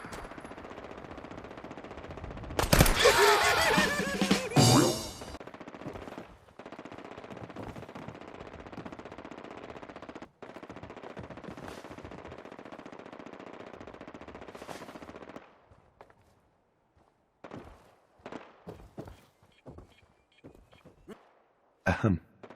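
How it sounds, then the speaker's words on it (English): Gunfire in the Fallout 4 video game: a dense burst of rapid automatic fire for about two seconds over a steady background hum, followed by a few scattered distant shots near the end. "Need some cover fire over there!"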